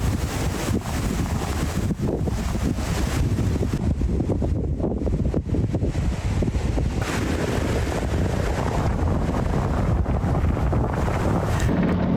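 Strong wind blasts across a microphone on a mountain top in Tasmania, a continuous loud roar and buffeting with gusts that rise and fall, with no other sounds.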